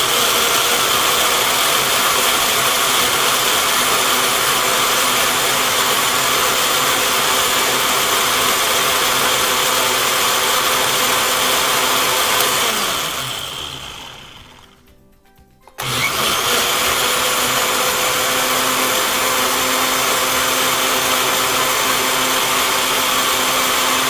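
A blender whirs loudly and steadily as it mixes pomegranate seeds with water, winding down briefly into near silence before the motor roars back to full speed.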